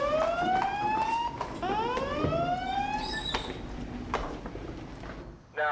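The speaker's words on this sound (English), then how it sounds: "Suddenly, the alarm sounds and they're off." A Coast Guard station alarm sounds in long rising and falling wails, several sweeping siren-like cycles repeating over a steady background with no talk, loud and close, fading near the end.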